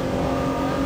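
A VW racing car, a 1994 Vento VR6 or Polo Cup car at Oulton Park, drives out of a corner with a steady, dense engine roar that holds constant and loud through the whole moment, no voices.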